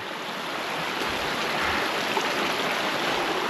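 A creek rushes steadily through Lost Cove near Hunt Fish Falls: a dense, continuous hiss of flowing water among deadfall, close and even throughout, with no voices.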